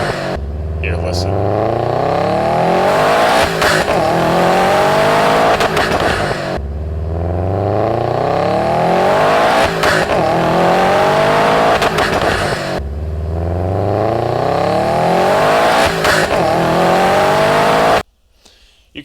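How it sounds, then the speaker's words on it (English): Turbocharged car engine recorded close to the intake side, with repeated revving bursts carrying audible turbo spool whine and induction roar; three loud pulls in succession, each cutting off abruptly, no voices. "hearing the turbo spool and the induction noise when you have treble reduced versus leaving it at its natural state"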